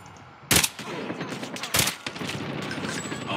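Two sharp bursts of automatic gunfire in Call of Duty Mobile, each a brief loud volley, separated by about a second of quieter game ambience.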